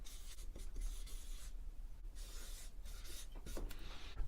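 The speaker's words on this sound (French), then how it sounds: "je vais même l'écrire là-haut tellement c'est important" Marker or chalk scratching across a board in quick strokes and rubs, close and fairly quiet, with short pauses between words being written and no talking.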